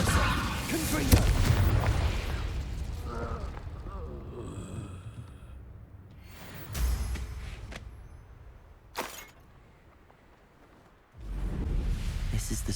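Confringo spell explosions in the video game Hogwarts Legacy: a run of blasts and booming bursts, some heavy and near, others sharper pops, separated by quieter gaps with game ambience.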